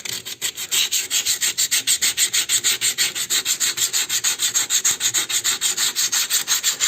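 Oil-soaked brake shoe friction lining being scrubbed clean by hand: fast, even back-and-forth rubbing strokes, about three per second, loud and close with no voices.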